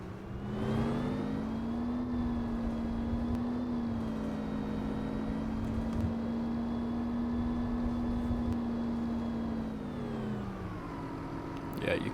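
A Gillig Advantage city bus engine from 2005 in Rigs of Rods drones at a steady mid pitch, rising at the start and falling away near the end, loud and close with a faint whine above.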